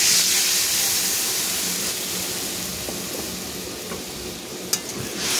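Spice masala sizzles in a pan as cashew paste water is added, giving a steady close hiss and crackle with a faint stir or clink near the end and no talk.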